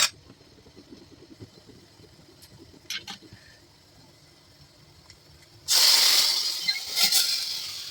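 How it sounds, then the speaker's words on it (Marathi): After a quiet stretch, a sudden loud sizzle and crackle of spice tempering poured into sprouted horse gram curry bursts up and keeps hissing steadily to the end. "आणि आता फोडणी देते."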